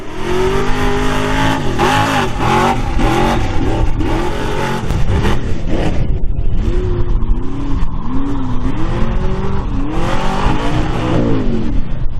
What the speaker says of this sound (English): It's a 1998 Chevy Tahoe, 454 board 30 over